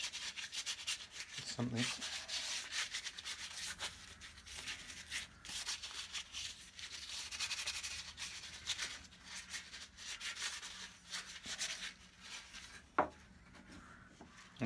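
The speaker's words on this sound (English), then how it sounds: "Sanded it right back, must have been stained" Sandpaper rubbed back and forth on the wooden handle of a vintage dovetail saw: a soft, continuous scratchy rasp in quiet, close strokes, with a brief murmured voice near the start.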